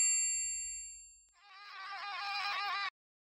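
A bright bell ding from a German horse-learning video game rings and fades, then a short buzzing, warbling chime follows before cutting off abruptly, clean and close with no talk.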